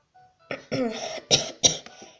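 A person coughs a few times close by, short throaty bursts with some throat clearing in between.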